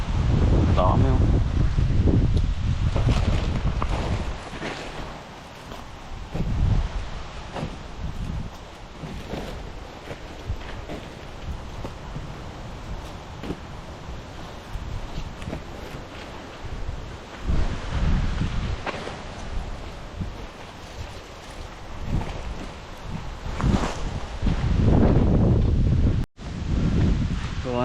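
Gusty wind across an open cucumber field, buffeting the microphone in loud rumbling surges that rise and fall, with rustling and occasional voices in the background.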